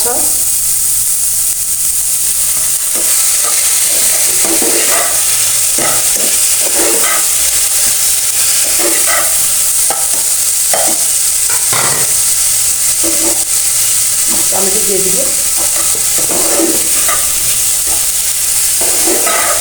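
Vegetables stir-fried in a pan with soy sauce give a steady loud sizzle and hiss, with repeated scrapes and clinks from stirring scattered throughout.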